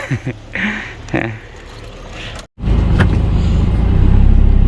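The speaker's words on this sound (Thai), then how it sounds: "ขับรถเที่ยวกันต่อ" A car driving around a small Lao riverside town, engine and road rumble growing louder and steadier after a brief cut, with some voices and clatter heard faintly before it.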